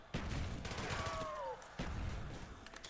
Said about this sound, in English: I'm going to throw a grenade out there.